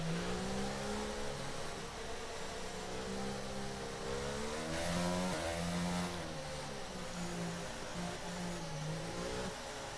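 Formula 1 cars in the F1 22 video game accelerating at a safety car restart, a loud continuous engine whine with rising and shifting pitch as the field builds speed, steady throughout with no talk.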